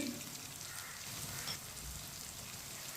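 Spices such as whole coriander, salt, ground red chilli and turmeric frying in a pan while potato sabzi is cooked, a soft steady sizzle with light stirring that carries on throughout.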